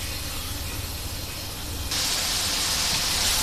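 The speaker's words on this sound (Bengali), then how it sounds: "এখন কিছুক্ষণ এটাকে একটু ভাজবো তেলে, মাংস পেঁয়াজের সাথে।" Meat and onions fry in hot oil for a chui jhal curry, giving a steady broadband hiss that grows louder and brighter partway through, with no voices.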